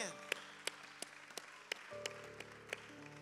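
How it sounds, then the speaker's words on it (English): Church congregation at an anniversary service clapping hands in praise, a sparse run of distinct claps at a steady rhythm, fairly faint, with a sustained musical tone entering partway through. "Let's give the Lord a big hand clap of praise."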